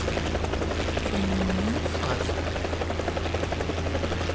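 Helicopter in the War Thunder combat game, a steady low rotor drone and engine buzz running continuously throughout, with a brief rising tonal whine partway through and someone talking over it.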